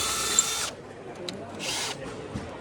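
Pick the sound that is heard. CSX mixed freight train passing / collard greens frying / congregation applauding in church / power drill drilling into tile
power drill drilling into tile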